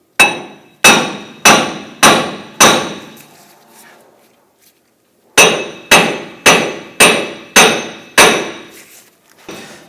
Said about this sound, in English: I'm going to go ahead and use my hammer and hit the back side of the flange and work this out.